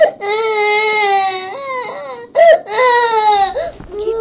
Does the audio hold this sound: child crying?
yes